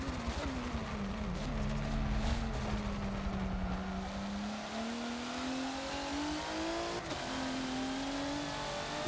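A race car engine in the Forza video game on the VIR Grand West circuit drones and climbs in pitch, drops briefly as the throttle lifts for a gear shift, then rises again in a continuous, close revving tone.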